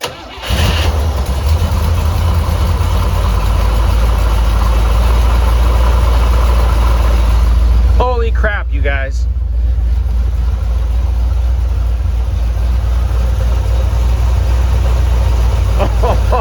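A C3 car engine firing after sitting unused for two years, cranking on the starter, catching and settling into a loud, steady rumbling idle close by, while a man briefly exclaims partway through.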